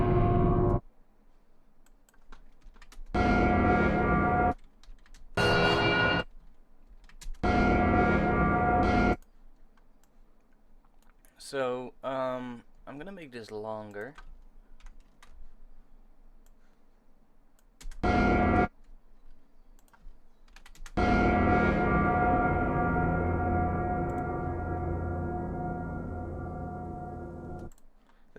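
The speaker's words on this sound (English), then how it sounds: "Let's try starting off with a bell." A synthesized gothic bell sound for pads plays in repeated bright bell hits with ringing harmonics between silent gaps, some short and some sustained, ending in one long decaying tone. Someone speaks briefly in between.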